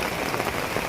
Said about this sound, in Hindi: क्योंकि अभी बारिश हो रही है